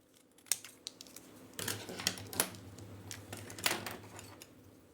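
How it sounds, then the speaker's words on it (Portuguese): Scissors snipping through paper during a drawing lesson, a handful of sharp, crisp cuts spaced irregularly with soft rustling of the sheet between them, close and fairly quiet. "tesoura"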